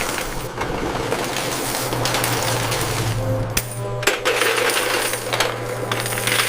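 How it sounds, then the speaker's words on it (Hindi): Coins pour continuously into a coin counting machine at a bank, a dense metallic clattering and rattling over steady mechanical hum, loud and close throughout, briefly thinning midway before resuming. "सिक्कों को गिनने और वितरण के लिए मशीन में डाला जाता है।"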